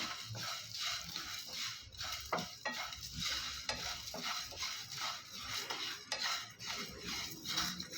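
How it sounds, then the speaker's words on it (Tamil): Cardamom and fresh curry leaves dry roast in a pan with no oil for pepper chicken fry, a soft crackle under frequent stirring scrapes and light utensil taps, close but quiet, with no voices. "நல்ல ஒரு வாசனை வர வரைக்கும் வறுத்து விட்ருங்க"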